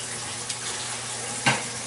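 Water runs from a kitchen tap for hand washing in a home kitchen, a steady low rush with a brief splash or clatter near the end.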